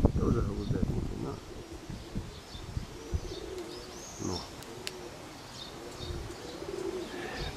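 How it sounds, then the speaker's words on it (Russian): Domestic pigeons released from a courtyard loft coo softly and birds chirp in the background while people talk over them; a few wingbeat-like flutters are heard. "Подкинул голубей отсюда, со двора."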